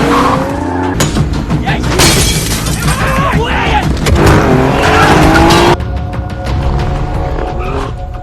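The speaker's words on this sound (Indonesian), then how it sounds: "Sampai akhirnya terjadilah kejaran-kejaran yang cukup menegangkan." Tense car chase in a film, loud and close, with revving engines, screeching tires, skids and a shattering crash, plus brief shouted voices amid the action.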